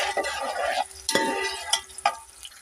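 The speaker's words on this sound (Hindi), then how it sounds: "व्यूअर्स, ऑयल हमारा गर्म हो चुका है। अब हमने इसमें प्याज डाली" Chopped onions dropped into hot cooking oil for vegetable pulao, giving a steady close sizzle with a few sharp stirring scrapes and clinks at intervals, no voices.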